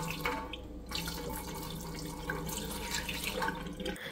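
Tap water splashes steadily over a small plastic sink caddy in a kitchen, a soft, continuous trickle with faint drips, fairly quiet and close with no talking.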